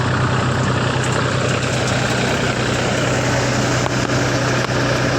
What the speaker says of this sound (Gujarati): ટ્રેક્ટર છે મહિન્દ્રા ને આપણે જે જોઈએ કેટલા રેટ ઉપર હાલે છે